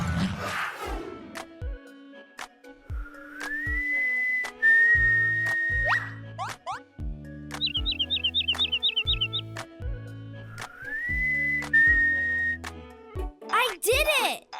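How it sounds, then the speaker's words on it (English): A cartoon character whistles, with rising tones and a quick run of chirpy trills, interspersed with animated voices talking in a bright, playful setting. "I think I'll give whistling one more try."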